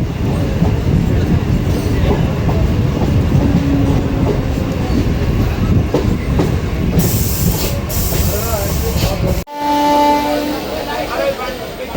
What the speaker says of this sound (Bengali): বগুলা স্টেশন থেকে আমাদের রানাঘাট গেদে লোকাল ডিপার্চার নিয়ে নিচ্ছে